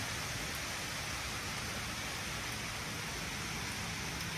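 Steady rain falls on a rooftop garden, hissing evenly and softly throughout, a continuous wash of falling water with no breaks.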